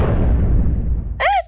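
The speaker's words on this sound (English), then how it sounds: "let's see how big the explosion is" A boomsphere explodes in the VR game Animal Company, a loud, rumbling low blast that fades out over about a second, followed by a short sharp whistle-like tone.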